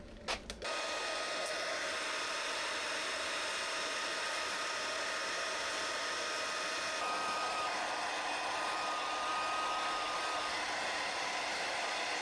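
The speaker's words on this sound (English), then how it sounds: "I have brought down the hairdryer." A hair dryer blowing over a motorcycle with a steady, loud whooshing hum after a few brief clicks at the start, its pitch shifting slightly partway through.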